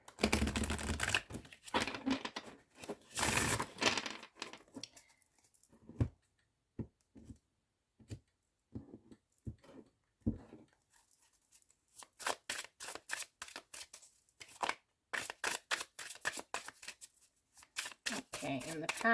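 Tarot cards are shuffled by hand in irregular bursts of crisp riffling and slapping, close and fairly quiet, with short pauses between the bursts.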